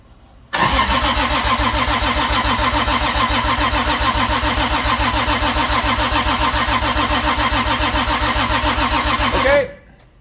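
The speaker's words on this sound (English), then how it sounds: "Can you crank the starter? It's the button on the switches." A drift car's engine cranked with a starter button, firing abruptly and then running at a loud, steady, throbbing idle close by for several seconds before cutting off.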